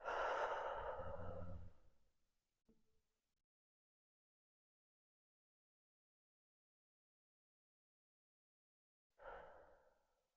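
Deep breathing during a yoga session: a long, full exhale fades over about two seconds, then near silence, then another deep breath begins near the end, close and unhurried.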